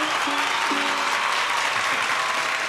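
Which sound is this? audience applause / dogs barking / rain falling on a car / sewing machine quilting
audience applause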